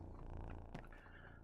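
A cat purrs in the Returns Outlet Simulator video game, a steady low rumble that is soft and continuous, with a brief brighter sound partway through.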